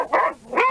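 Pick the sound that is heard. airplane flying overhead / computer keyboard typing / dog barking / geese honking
dog barking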